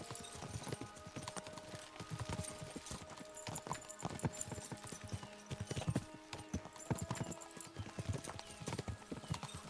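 Horses gallop in Kingdom Come: Deliverance II, a steady fast clip-clop of hooves with a brief whinny, loud and continuous across the whole stretch over a busy outdoor game soundscape.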